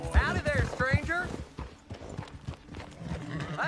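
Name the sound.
horse hooves clip-clopping in a video game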